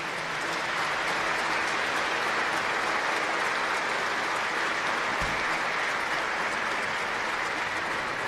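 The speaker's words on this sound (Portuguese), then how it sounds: "E uma salva de palmas." Steady applause from a congregation fills a church sanctuary after a classical music performance at Mass, a dense, even wash of clapping hands heard throughout with no speech.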